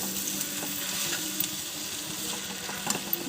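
Mixed vegetable curry fries with coriander in a pan, a steady close sizzle with occasional soft scrapes and clicks from stirring throughout.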